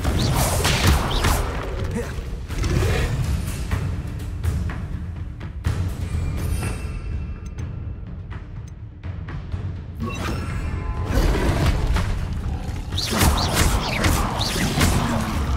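Confringo fire-blast spells cast in the game Hogwarts Legacy, a run of whooshing impacts and crashing bursts amid constant loud combat noise, with several quiet gaps between flurries of attacks.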